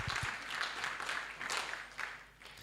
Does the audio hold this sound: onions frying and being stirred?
no